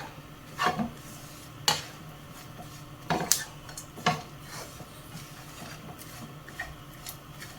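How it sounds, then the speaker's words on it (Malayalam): Okra masala fry gets stirred in an open pan, a spoon scraping and tapping against the metal in scattered soft strokes and clinks over a faint steady background, quiet and close with no voices. "തുറന്ന് വെച്ച് തന്നെ നമുക്കിത് ഇളക്കി മിക്സ് ചെയ്ത് എടുക്കാം."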